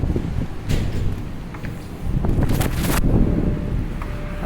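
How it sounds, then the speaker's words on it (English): Gusty wind roars across the microphone while walking through a downtown street during a heavy snowstorm, loud and steady with stronger surges and rustling, and nobody speaking. "I think it's a little bit windy out here"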